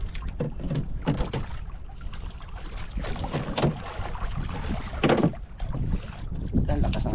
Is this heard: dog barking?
no